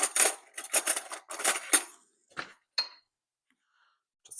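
A fork stirs crushed Oreo crumbs into melted butter in a glass measuring cup, giving quick bursts of scraping clinks against the glass, then a few sparse, isolated taps.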